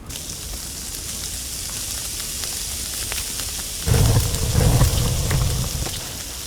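Food sizzles on a fire in the survival video game Sons of the Forest, a steady crackling hiss that jumps louder about halfway through and keeps going.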